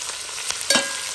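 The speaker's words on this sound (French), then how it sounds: "je laisse le temps que les oignons soient bien" Onions sizzle steadily in a hot pan, a continuous close hiss with a couple of brief stirring scrapes and no talking.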